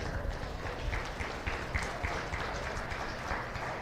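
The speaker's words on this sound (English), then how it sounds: "I think a big round of applause is deserved for these three beginners." A ringside audience at a county fair cattle show applauds a group of beginners, a dense sustained patter of clapping heard at moderate distance with no one speaking.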